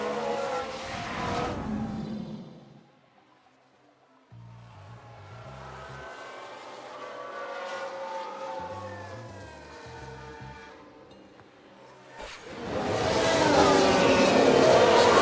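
F1 race cars in the F1 Manager 22 video game, an Alpine running wide, with loud engine roars and passing whines that drop away to a low hum before surging back loudly.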